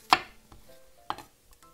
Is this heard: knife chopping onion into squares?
yes